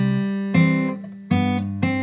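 An acoustic guitar is played fingerstyle in a Travis picking pattern, with ringing plucked notes struck in a syncopated rhythm, clear and close, alone without voices.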